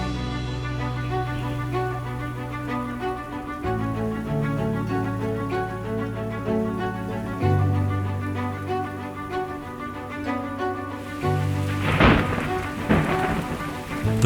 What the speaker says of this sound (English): When the first rains touch the African savanna, the parched land awakens.